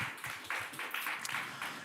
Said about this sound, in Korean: 하나님 앞에 감사하고 나를 사용해 주셔서 감사하다고 한 번 더 박수 한번 드렸으면 좋겠습니다